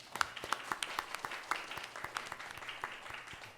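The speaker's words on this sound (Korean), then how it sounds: "우리 같이 환영의 박수를 올리겠습니다." Congregation at a Thanksgiving church service giving a welcome round of applause, with scattered hand claps in a soft, fairly distant and uneven patter.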